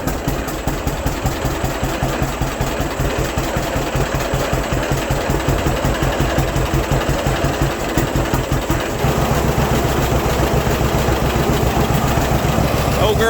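A 1952 John Deere AH Hi Crop tractor, run again after sitting in a museum for 15 years, idles with a steady, loud, rhythmic chugging that holds throughout, its beat shifting slightly partway through.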